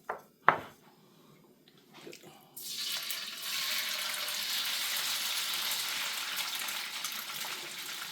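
Cooking oil poured into a frying pan for a chicken, shrimp and vegetable stir fry: a couple of sharp clinks first, then a sudden steady hiss and gush of liquid that continues close by to the end.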